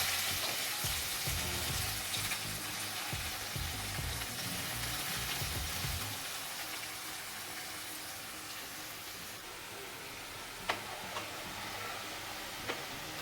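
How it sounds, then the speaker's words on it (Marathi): Chopped onion hits hot oil where cumin seeds have already crackled. A brisk, soft sizzle in the first few seconds settles into a quieter simmer, broken by a couple of sharp clicks. "जिरी तडतडल्यानंतर त्याच्यामध्ये टाकायचा कांदा"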